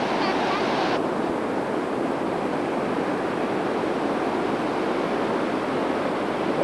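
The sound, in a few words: ocean waves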